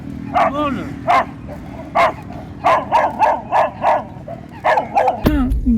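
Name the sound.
pack of dogs barking at a roadside eatery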